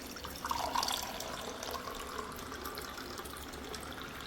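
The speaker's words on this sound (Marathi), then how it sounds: "आता आपण मस्त थंडगार माठातलं पाणी त्याच्यामध्ये घेऊ" Cold water from a clay pot poured onto washed lentils, a soft close trickle and splash that is strongest early, then settles into a quieter steady flow.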